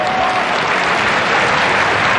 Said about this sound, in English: Crowd enjoying their ball play.